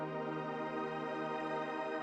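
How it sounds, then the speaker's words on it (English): Sustained shimmering swell reverb from a GFI System effect with the decay turned up, a steady, dense tonal wash with bright harmonic layers, faint and even throughout. "This is like a swell, a shimmering swell reverb"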